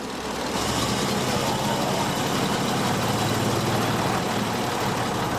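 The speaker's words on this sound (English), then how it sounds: "Sounds absolutely gorgeous, this engine." A 1910s engine with overhead valves and crosshead pistons runs steadily and loudly, a dense rumbling drone with no break throughout.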